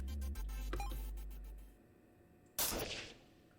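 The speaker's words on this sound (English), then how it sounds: "I'll fire a warning shot, we need to stop him." Warning gunshot in the video game Your Turn To Die comes as a single sharp, loud blast after a stretch of electronic game tones and a low rumble, followed by a short decaying tail.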